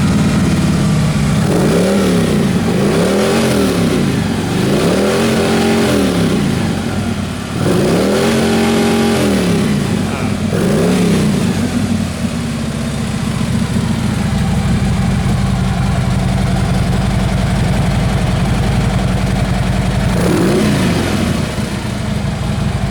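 A Harley-Davidson Street Glide motorcycle engine revs repeatedly in loud, close bursts, each rising and falling in pitch, then settles into a steady idle with one more brief blip near the end.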